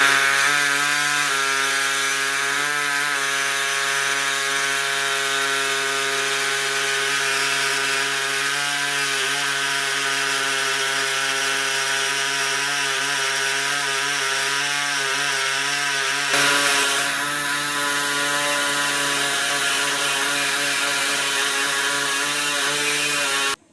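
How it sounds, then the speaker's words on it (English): Steady back-and-forth hand sawing rasps continuously through 1928 Ford car metal, a harsh rhythmic scraping with strong overtones that shifts tone partway through, close and loud. "Let's get to cutting some metal."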